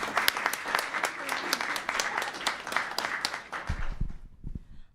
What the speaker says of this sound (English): Let's have a round of applause for these girls.